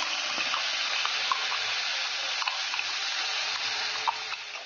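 Hot oil sizzles steadily in a kadai (wok) over several seconds, a dense, even hiss with small crackles and pops, close and with no talk.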